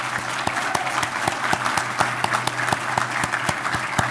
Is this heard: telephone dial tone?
no